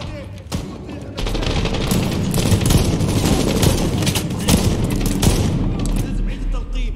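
Continuous, dense gunfire from a firefight in Medal of Honor (2010), where shotgun blasts mix with overlapping shots and booms. It roars loud and steady for most of the stretch, with no clear gaps between bursts.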